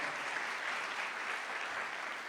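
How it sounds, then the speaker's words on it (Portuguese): A church congregation applauds steadily and evenly throughout, a continuous wash of many hands clapping at moderate volume with no voices on top. "Quando dá um aplauso para o Senhor pela vida do Marcelo?"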